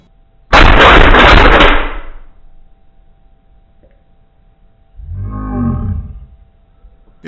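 A BB or pellet gun fires full auto in a single loud, rapid burst lasting over a second, followed by a quiet pause and then a short low vocal sound.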